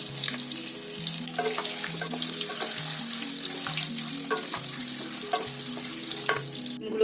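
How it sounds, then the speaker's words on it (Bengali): Eggs frying and being turned over in hot oil for a Bengali-style egg curry, a steady close sizzle with occasional scrapes, while a simple melodic tune plays underneath throughout. "ডিমগুলোকে ভালো করে এপিট ওপিট ভেজে তুলে নেব।"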